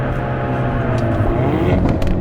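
A Hyundai Elantra N engine idling and revving with a deep, throaty exhaust rumble that rises and swells slightly, heard up close.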